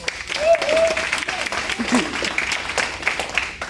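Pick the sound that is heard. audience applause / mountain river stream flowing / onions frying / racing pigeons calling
audience applause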